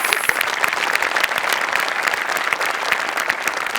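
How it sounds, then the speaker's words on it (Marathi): A studio audience at a Marathi comedy show claps in dense, continuous applause that holds steady throughout, close and loud. "एकदा जोरदार टाळ्या वाजवूया."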